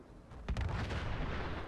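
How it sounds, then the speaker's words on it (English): Explosion in the video game Fallout 4, a single sudden deep boom followed by a rumbling, crackling tail that lingers, heard at a moderate distance. "There was an explosion."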